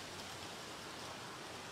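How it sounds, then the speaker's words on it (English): A steady, even hiss of rain falls in San Diego, a constant wash of drops with no talk or other sounds. "The rain will restore moisture to the dry, parched, cracked land here in San Diego"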